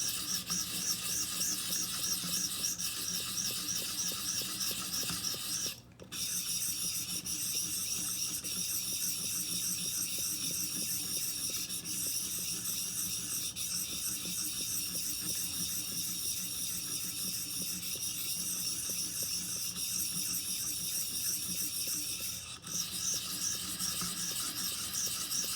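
A 511 Recurve knife blade drawn over a 1200 grit sharpening stone, a close, steady, continuous scraping rasp held for the whole stretch with two brief pauses, no voices.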